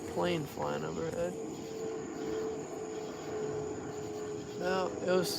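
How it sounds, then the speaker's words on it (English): An airplane flies overhead on approach to land, a steady broadband engine roar lasting several seconds, with a voice talking briefly at the start and end. "the plane flying overhead."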